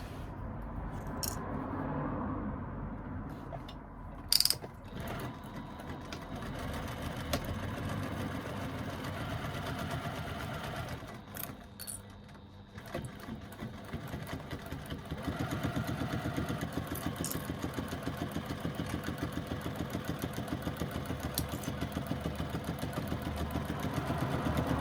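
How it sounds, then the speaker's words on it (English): A sewing machine stitches a seam with a 3/8 inch seam allowance, running as a fast, even mechanical whir close by, quieter at first and growing steadier and louder in the later part. "we're going to stitch down this side using a 3/8 of an inch seam allowance"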